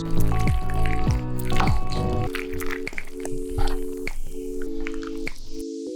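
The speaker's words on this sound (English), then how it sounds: "While they're hot, we've got our cheese sauce and we're just going right in" Cheese sauce is poured over hot boiled noodles, making close, wet squishing and dripping sounds that run for several seconds under steady background music.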